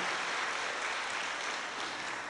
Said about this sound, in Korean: 우리 하나님께 감사 박수 한번 돌립시다